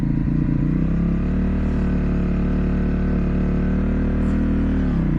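A CFMoto 800NK motorcycle engine idles and putters at low revs through a slow U-turn, a steady, close, loud drone that holds even before easing off near the end.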